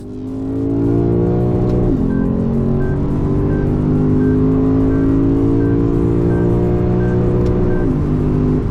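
A 2024 Lexus RC F Platinum with a 5.0 V8 revs hard toward redline, a loud, steady, rising engine howl that climbs through two gear shifts with brief dips between them, heard alone with no talking.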